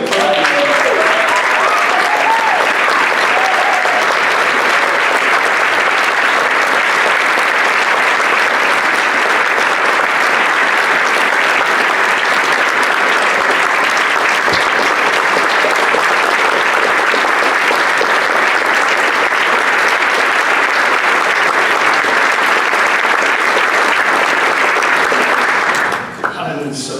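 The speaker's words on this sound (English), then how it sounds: "Can you please join me in clapping?" A gala audience applauds two honored nurses with sustained, dense clapping that holds steady and loud for nearly half a minute before cutting off abruptly, a few voices and cheers mixed into the roar.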